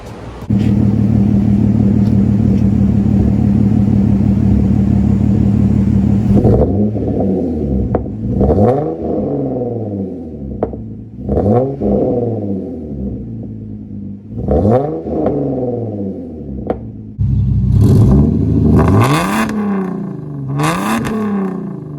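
A Genesis Coupe with a 3.8 V6 and newly installed headers idles with a loud, steady drone, then gives a series of sharp revs that climb and fall, ending in a quicker burst of repeated blips.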